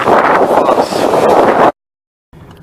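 Strong wind buffets the microphone outdoors in Iceland, a loud continuous roar that cuts off abruptly, leaving silence before fainter wind returns.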